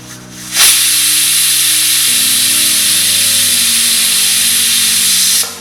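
A pressure cooker lets off steam for a mutton head curry in one loud, continuous hiss that starts abruptly and holds steady for several seconds, with a low hum underneath.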